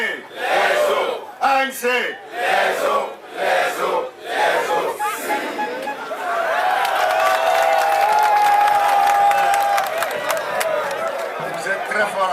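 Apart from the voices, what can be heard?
crowd cheering and chanting at a political rally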